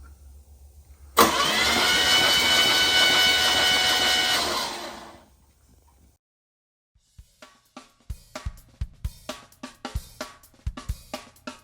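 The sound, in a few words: Pontiac 350 engine cranking and starting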